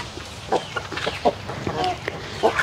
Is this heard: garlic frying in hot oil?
no